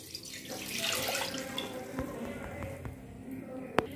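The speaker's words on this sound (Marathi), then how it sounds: "त्याच वाटीने मी 1 वाटी पाणी घालत आहे." A bowl of water is poured into a cooking pan to start a sugar syrup, a splashing, trickling pour lasting a few seconds and ending with a sharp click.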